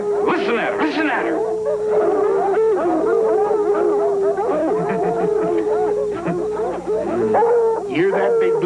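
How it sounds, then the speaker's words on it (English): Redbone hounds bay and warble on a trail, long drawn-out howling notes mixed with yips and whimpers from several dogs, loud and fairly close, continuing without pause throughout. "Man, that Redbone Warble's the sweetest tune this side of Pearly Gates"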